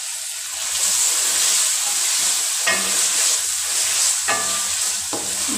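Rice and peas sautéed in a pot for matar pulao, giving a loud continuous hissing sizzle with occasional scraping strokes of a spoon and no talking.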